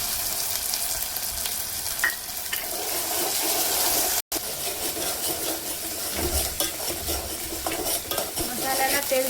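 A ground paste of roasted tomato, onion and coconut fries in a pan for dhaba-style sev bhaji, a loud continuous sizzle with stirring and scraping, briefly cut off midway and then resuming.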